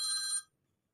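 A phone alarm rings as a bright, high electronic tone for under half a second, then cuts off abruptly into silence.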